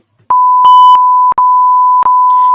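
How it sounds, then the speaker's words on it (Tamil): Sharp, loud censor beeps at a single steady tone cut in and out several times, bleeping over a commentary with short gaps between the blasts. "ஏன் பீப் போட்டன்றது"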